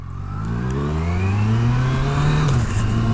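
A Kawasaki Versys 1000 engine pulls smoothly and loudly as the motorcycle accelerates, its pitch climbing steadily across the revs, then dipping briefly at a shift before rising again.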